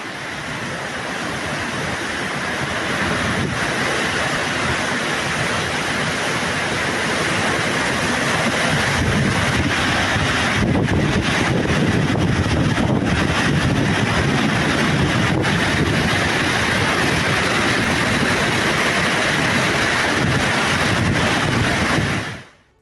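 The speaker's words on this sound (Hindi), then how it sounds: "सैलाब सब कुछ बहा ले जाने पर आमादा है" Floodwater rushes through streets during Spain's devastating flood, a loud, unbroken churning roar mixed with wind buffeting the microphone, steady for over twenty seconds before cutting off.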